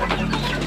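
A chicken on a poultry farm gives a quick run of close, loud clucks, a brief burst of throaty calls lasting under a second.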